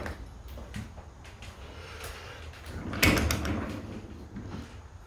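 An All-O-Matic opener raises a squeaky garage door, giving a low steady rumble with a louder burst of creaking and scraping partway through, close by.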